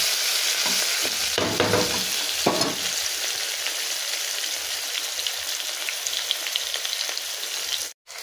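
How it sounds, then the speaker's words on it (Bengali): Onions fry in a pan with a steady close sizzle, broken by a couple of brief stirring scrapes early on, then continuing alone. "এবার পেঁয়াজটা কিছুটা পরিমাণ ভাজা ভাজা হবে"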